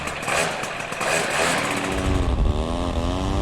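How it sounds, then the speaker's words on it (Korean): A motor paraglider's engine drones with a steady, buzzing mechanical tone that grows louder and deeper partway through, running continuously and close by with no talk. "바로 모터 패러글라이더인데요."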